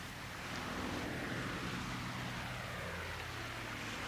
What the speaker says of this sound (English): That's an aeroplane.